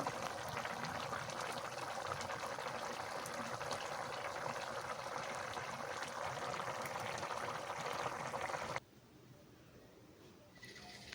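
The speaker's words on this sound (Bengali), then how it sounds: "একেবারেই টকবগিয়ে ফুটে গেছে" Vegetable curry with cauliflower, potato and tomato boils hard in a covered pot, a steady bubbling, churning wash that cuts off abruptly near the end, leaving quiet room tone.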